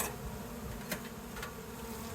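Honeybees buzz in a steady, close drone around a nuc hive in Barbados, with a couple of brief louder passes as bees fly near; no voices.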